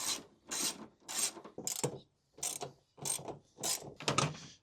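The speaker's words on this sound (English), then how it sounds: "these are all 10mm bolts, so you can just use one socket" A socket wrench fitted with an extender ratchets on 10mm headlight bolts in a car, seven or eight distinct bursts of clicking, each about half a second long, close by, with short pauses between them.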